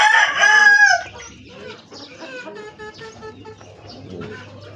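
Gamecock chicks and chickens cluck and peep close by, opening with a loud burst of calls, then softer scattered clucks and chirps.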